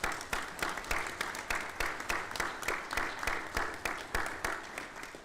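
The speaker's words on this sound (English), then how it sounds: "I think we need to give a round of applause on that" A round of audience applause at a school board of trustees meeting: scattered, fairly sparse hand claps in a steady rhythm, moderately loud and close, with no talking over them.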